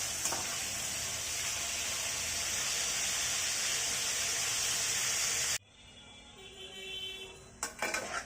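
Potatoes for chicken biryani fry in hot oil with a loud, steady, close sizzle that cuts off abruptly, followed by quieter kitchen clatter and a few utensil knocks.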